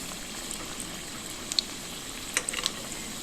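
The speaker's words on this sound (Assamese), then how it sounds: "এনেকৈ এটা এটাকৈ গৰম তেলত দিব। ডিপ ফ্ৰাই কৰিব" Paneer pakoras bubble and sizzle as they deep fry in hot oil, a soft continuous crackle with a few sharper pops near the end, close and fairly quiet with no talk.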